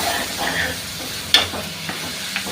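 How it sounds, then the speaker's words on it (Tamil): Curry leaves sautéing in hot oil for a tomato chutney, giving a soft steady sizzle and hiss with one sharp crackling burst midway and a couple of smaller pops afterward. "ரொம்ப கருவேப்பிலை போட்ட பிறகு ரொம்ப வதங்க வேணாம், லைட்டாக வதங்கினா போதும்"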